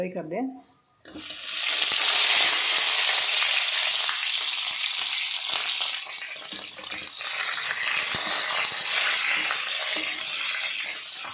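Onions shallow frying in oil, a loud steady sizzle that rises after a brief quiet start, dips slightly midway and then continues strong to the end.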